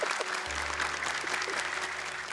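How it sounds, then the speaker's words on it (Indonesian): Studio audience applause on a Quran-recitation television competition, a steady wash of clapping throughout with a low hum underneath. "Buat tepuk tangan dong buat Abi Amir Mas Sofan."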